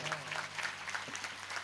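Audience applause at a Ram Katha gathering for the Shiv Parvati Vivah episode, steady moderate clapping throughout with a low hum underneath.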